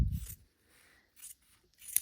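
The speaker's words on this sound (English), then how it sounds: "I usually just come in with some scissors and do my best to eyeball this." Scissors cut through quilting fabric to separate half square triangles. Three short, crisp snipping strokes are heard up close, with quiet pauses between them and no talk.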